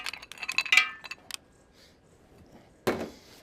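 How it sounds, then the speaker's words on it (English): Two pounds of littleneck clams dropped into a pan for a smoked New England clam bake, giving a quick run of hard shell clinks and clatters, then a pause and one last rattling clatter. "I have 2 pounds of little necks. Just sprinkle them in."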